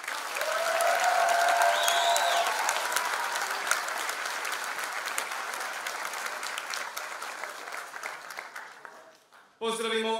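At a folk music and dance anniversary concert, an audience applauds the evening's folk orchestra with loud, dense clapping that slowly thins and fades over about nine seconds before a voice comes in.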